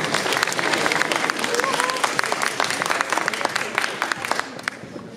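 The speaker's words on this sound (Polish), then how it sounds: "Wielkie brawa dla klasy trzeciej." Applause from an audience at a school spring-day event for a third-year class, dense clapping with sharper close claps and some crowd murmur mixed in, fairly steady throughout.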